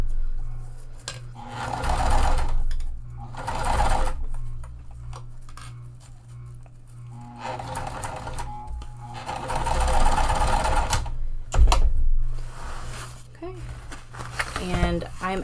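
A sewing machine fitted with a Teflon foot stitches over mesh on a pool tote, running in short bursts and pauses with small clicks and handling noises between runs.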